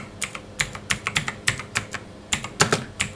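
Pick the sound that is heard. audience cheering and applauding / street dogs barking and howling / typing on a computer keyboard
typing on a computer keyboard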